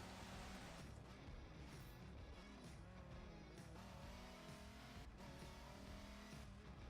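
A Dodge Viper races in Forza Motorsport 7, its engine droning steadily and loudly throughout, with tire noise and faint shifts in pitch but no speech.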